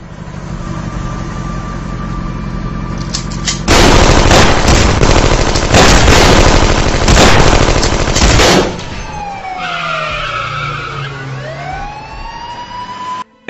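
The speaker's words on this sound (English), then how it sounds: "Every single bullet missed Stephen" Rapid bursts of gunfire rattle loudly and close, punctuated with gaps, followed by rising and falling siren wails as the shooting stops.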